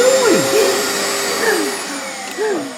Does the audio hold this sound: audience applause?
no